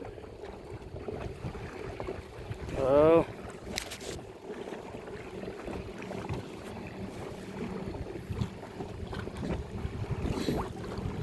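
A small wooden boat moving across open water on a breezy day, with wind buffeting the microphone, faint water sloshing and knocking against the hull, and a voice speaking briefly now and then.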